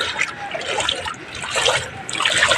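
Typhoon floodwater overflows nearby, a continuous close rush of trickling and splashing water that swells and eases without a break.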